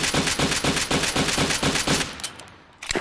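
Beretta M9 Steel pistol fired repeatedly in a VR shooting game, a steady rapid string of about nine loud, punchy shots, then a pause and one more shot near the end.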